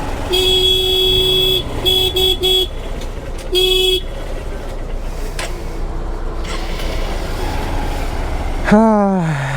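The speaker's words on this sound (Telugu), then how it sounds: "ఈ ట్రాఫిక్ జామ్ అయిందిరా బాబు" Car horns blare in several long and short blasts over a steady rumble of traffic jammed at night by railway track construction, with a rising and falling tone near the end.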